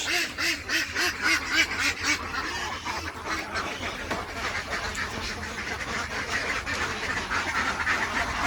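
Dense, continuous quacking and honking from a crowd of ducks inside a farm enclosure, loud and close throughout with no talking.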